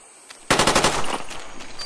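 Rapid bursts of automatic gunfire in the Call of Duty video game, a loud sudden volley of closely spaced shots followed by continued firing and game noise.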